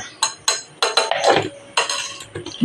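Spoon clinking against a bowl or pot while custard powder is stirred into milk for a rose rasmalai recipe, a series of sharp separate clinks and scrapes, close and fairly loud, with no talking.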